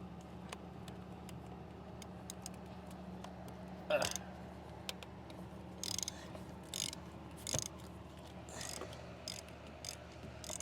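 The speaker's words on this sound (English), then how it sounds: "Think I could put a bigger ratchet in here?" Quiet clicking of a ratchet working on a car's oil filter housing, short bursts of ratcheting spaced irregularly over a low steady background hum, fairly faint and close.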